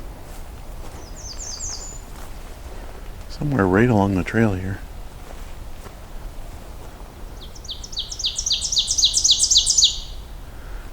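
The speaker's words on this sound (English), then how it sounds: "There's one loud ovenbird." Loud, repeated two-note ovenbird phrases ring out twice in rising series, with a person speaking briefly between them outdoors on an overcast morning.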